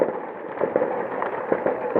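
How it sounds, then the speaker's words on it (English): Distant fireworks pop and crackle in a continuous irregular barrage, a steady muffled rumble broken by sharper bursts, heard from far off near a cricket ground. "goodness knows what the fireworks are for, but they seem to be going on quite a long time"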